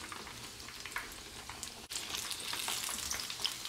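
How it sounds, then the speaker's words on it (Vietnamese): Pork belly frying in hot oil, turned onto its side to crisp, gives a continuous soft sizzle with scattered crackles and pops. The sizzle dips briefly partway through and then resumes slightly louder, with no talking. "Nếu mà bạn thích bên hông của nó giòn thì bạn ụp nó qua, mình chiên phía bên hông."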